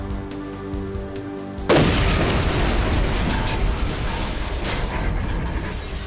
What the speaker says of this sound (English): The explosion hit the wall of the tower with a massive force